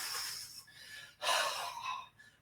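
Two loud, breathy exhalations close to the microphone during a body-shaking exercise in a shiatsu and energy-work class, each a forceful rushing outbreath separated by a short pause, with a softer breath trailing at the end.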